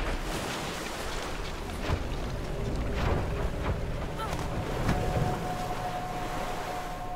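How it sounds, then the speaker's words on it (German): Snowstorm wind in the video game Never Alone blows as a steady, dense roar of gusting wind and rushing noise, continuous and fairly loud throughout with no voices. "Danach hörte der Sturm kurz auf, doch schon wurde es wieder windig."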